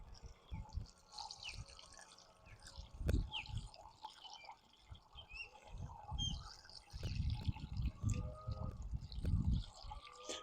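Spirulina culture poured through a homemade funnel cut from an old bottle into a clear glass jug gives a faint, uneven trickle and dribble of liquid, punctuated by soft low bumps and handling knocks.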